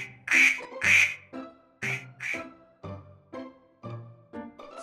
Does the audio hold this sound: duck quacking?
yes